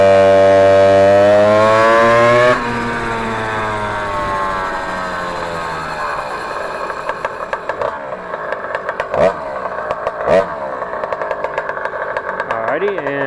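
A Stage 3 tuned scooter, capable of over 50 mph, pulls away from a dead stop on a street. Its loud, close engine note rises steadily through the run, then settles into a rougher drone with wind buffeting.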